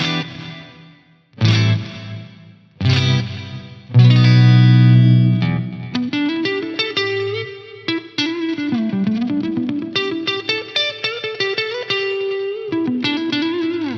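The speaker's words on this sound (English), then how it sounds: "Let's just hear this delay." Electric guitar through a Rocktron Chameleon 2000 processor set to stereo delay: opening stabbed chords, then a picked melodic line with repeats trailing each note, moderately loud with no talking.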